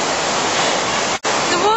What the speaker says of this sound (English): Here water comes out of the limestone, the stream flows away from Malham Cove on impermeable rock.